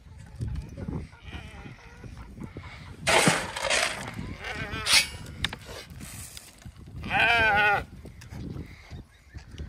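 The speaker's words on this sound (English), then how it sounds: "And all the sheep are coming." Sheep bleat as a flock approaches on a farm, several wavering calls rising above rustling and scattered background noise, fairly close, with a person talking quietly in between.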